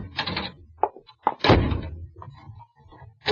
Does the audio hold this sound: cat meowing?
no